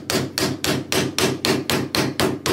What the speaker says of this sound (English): Then I hit the back of them with my hammer.